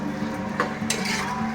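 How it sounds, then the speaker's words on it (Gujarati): A spoon stirs chori (cowpea) curry in a pot, giving soft scraping and a few light metallic clinks against the pot over a steady low hum. "હવે તે હલાવી નાખશું ખૂબ થઈ, મિક્સ કરી નાખવાનું"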